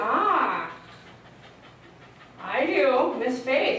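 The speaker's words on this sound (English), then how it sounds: "Did you notice the difference in her panting?" A Border Collie mix pants in quick rhythmic bursts while being deshedded, loud at the start and again near the end with a quieter gap between, and whimpering sounds mixed in close by.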